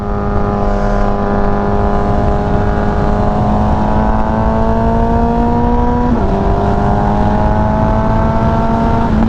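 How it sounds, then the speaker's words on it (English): A Kawasaki ZX14R motorcycle with a VooDoo exhaust screams steadily at about 6,000 to 8,000 RPM, loud and close, its pitch climbing slowly before a brief dip and recovery. "at higher RPMs, that exhaust will scream at a very high pitch."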